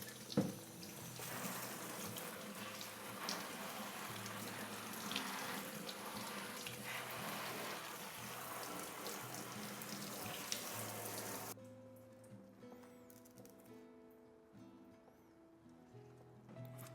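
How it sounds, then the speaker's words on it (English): Running water splashes steadily over potted plant leaves for several seconds, then the flow cuts off, leaving faint dripping and quiet background hum. "just wash the leaves."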